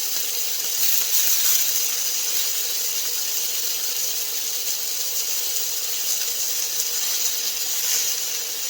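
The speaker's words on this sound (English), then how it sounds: "you need to let it sizzle. You need to let it sear" Chicken fajita meat sears on a small induction top, giving off a loud, continuous hissing sizzle heard close up that holds steady without pause, with no voices.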